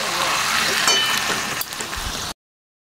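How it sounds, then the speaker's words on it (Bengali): Meat is fried and stirred with spices in a pan, giving a dense, steady sizzling hiss with stirring scrapes that stops abruptly near the end. "আমি মশলার সাথে মাংসটা ভালো করে কষাবো"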